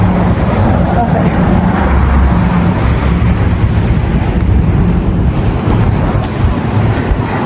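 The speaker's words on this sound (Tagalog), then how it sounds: "So, mahangin ngayon." Strong wind buffets the microphone outdoors near a hospital building on a blustery, rainy summer day, a constant roaring rush with only slight dips.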